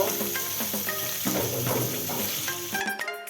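Chicken pieces fry in a pan for a pointed-gourd chicken curry, a loud close sizzle broken by scraping stirs and clattering utensil strokes, busier near the end, with no voices.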